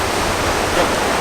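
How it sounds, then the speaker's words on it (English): Ocean waves at Omaha Beach, New Zealand, heard as a loud, steady wash of surf noise filling the whole stretch without talk. "You can hear the ocean."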